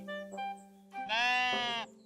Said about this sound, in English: You got some sheep?